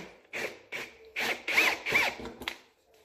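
A drill boring a pilot hole whirs in several short bursts, each a few tenths of a second, close by and fairly loud, with brief pauses between.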